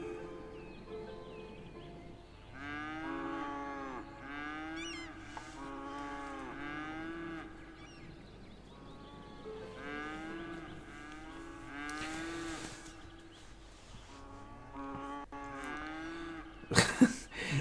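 Cattle moo repeatedly in a farm area of the city-building game Cities: Skylines, with long drawn-out calls coming one after another at a steady moderate level, faint bird calls in the background and a brief louder burst near the end.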